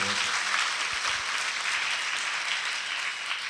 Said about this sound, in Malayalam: ഒന്ന് കൈയടിച്ച് ദൈവത്തിന് മാത്രം കൊടുത്തേ നല്ല ഒരു കരഘോഷം